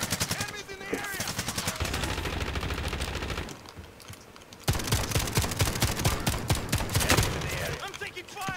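Rapid video game gunfire in bursts, loud and close, with automatic weapon fire dense through most of the stretch, a short quieter lull in the middle, then heavy shooting resuming, under a player's shouted voice.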